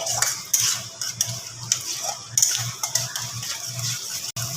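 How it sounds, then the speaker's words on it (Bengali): A spoon scraping and clinking against a wok as spice paste for an egg omelette curry is stirred in oil, giving close, irregular metallic scrapes and taps in a steady stirring rhythm. "সেটা আমি কড়াইতে দিয়ে দিচ্ছি মশলার বাকি ধোয়া জলও একটু দিয়ে দিয়েছি আমি এর মধ্যে এবার এটা দিয়ে ভালোভাবে একটু নাড়াচাড়া করব"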